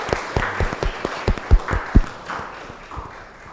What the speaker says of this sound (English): So, could we have another round of applause for our panelists?